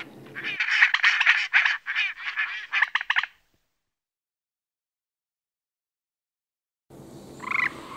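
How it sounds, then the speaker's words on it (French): A disturbed duck calls in a quick series of harsh, rapid cries for about three seconds beside a castle moat, close and loud, then silence follows and faint ambient noise returns near the end. "J'ai dérangé ce canard Colbert."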